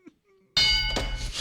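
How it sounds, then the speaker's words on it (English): A studio bell rings on its own during a live radio show, a sudden loud bright chime with sustained ringing tones that holds for nearly a second, preceded by quiet room noise. "The bell went off by itself"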